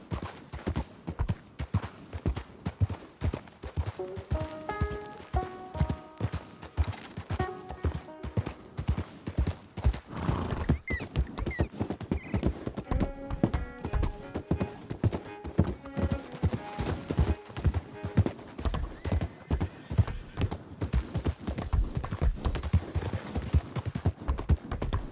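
Horse hooves galloping in the Red Dead Redemption 2 video game, a rapid steady clip-clop rhythm throughout, with brief musical notes and faint whinnies layered in.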